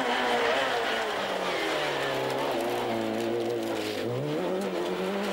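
A Ford Puma rally car charges along a stage of the Rally of Kerry, its engine revving and shifting as it passes close by, loud and continuous with a hint of tyre noise.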